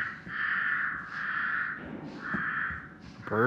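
A crow caws in the horror video game The Devil in Me, giving three or four drawn-out harsh caws at a soft, steady level, with a brief rising sweep at the end.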